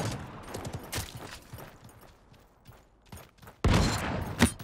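Rapid gunfire in the battle royale game Realm Royale comes as quick repeated shots and clattering bursts, building to a louder, denser volley near the end, close and without talk.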